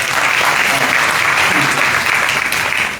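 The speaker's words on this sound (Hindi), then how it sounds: "तो इनके लिए भी आप ताली बजा सकते हैं।" An audience at a church meeting applauds steadily and loudly for about three seconds, a dense wash of close hand claps with no break.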